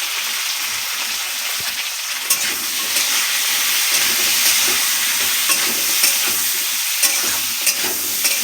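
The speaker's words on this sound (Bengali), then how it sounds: "সজনে ডাঁটাটা ভালো করে ভেজে নেব তেলে।" Drumstick (moringa) pieces seasoned with salt and turmeric sizzle steadily in hot oil in a pan, with the scrape and clatter of stirring repeated throughout, close and loud with no talking.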